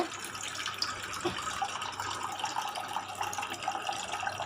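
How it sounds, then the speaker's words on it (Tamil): Water is poured into a pot to make black kavuni rice porridge, a continuous soft splashing and trickling that runs quietly and evenly the whole time. "இப்போ நம்ம தண்ணி ஊற்றி மிக்ஸ் பண்ணிக்கிறோங்க."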